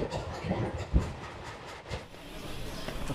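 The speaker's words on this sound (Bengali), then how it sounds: "আমাদের ট্রেন ছেড়ে দিল সালার স্টেশন থেকে।" Balurghat Express pulling away from Salar station, a low rolling rumble of the carriages with a soft thump and hiss, steady and fairly close, with no talk.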